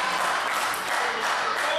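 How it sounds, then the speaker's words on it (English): A wrestling crowd at a UK show applauds in a dense, continuous wash of clapping that holds steady through the short stretch. "This crowd trying to will him back into this one-on-one contest."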